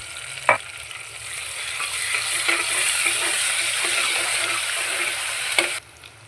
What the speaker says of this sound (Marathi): आपण मिरची आणि कांदा एकत्र भाजून घेऊया